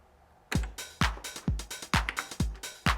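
A Roland TR-909 drum machine plays a shuffled beat, kick on every beat with claps and swung closed and open hi-hats giving a bouncing groove, starting after a brief quiet moment.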